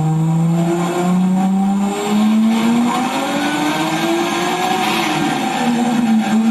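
A car engine revs hard on a dyno during tuning of a brand-new setup, with a loud sustained roar and a high whine that rise and fall steadily through the clip, close and alone.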